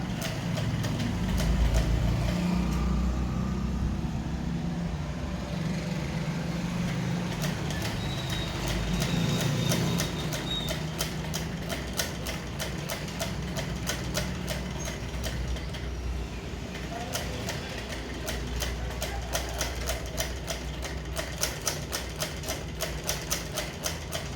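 A sewing machine stitches a shaped facing around a maxi dress neckline, its needle ticking in a fast, even rhythm over a low motor hum, close and continuous.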